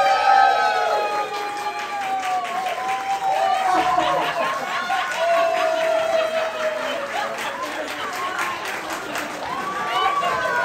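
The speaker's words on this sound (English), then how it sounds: "Get ready, and it's all a cheer for you." A crowd at a children's magic show cheers and claps steadily for about ten seconds, a dense wash of many voices with scattered shouts, fairly loud and continuous.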